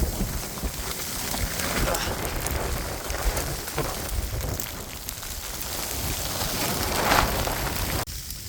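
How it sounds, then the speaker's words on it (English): Ice pellets pelt a campsite during a snowstorm at about minus ten degrees, a dense, continuous, close hiss and patter that stays loud and steady throughout. "It's not even snow at this point, it's like fucking ice just smashing you in the face."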